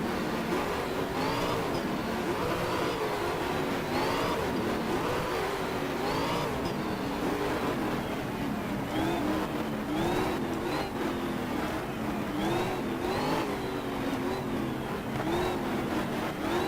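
Race car engine in the GTR 2 driving game at Watkins Glen, revving up and down through repeated rising pitch sweeps as it accelerates and shifts, loud and continuous with no talking.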